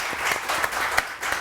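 A studio audience on a morning talk show claps in a brief, steady burst of applause, moderately loud and close, with distinct individual claps standing out.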